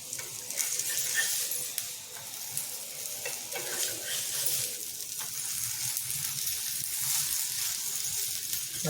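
A puri made from jackfruit seeds and coated in rice flour fries in oil on a pan, giving a steady, close sizzle with occasional stirring and scraping noises and no talk.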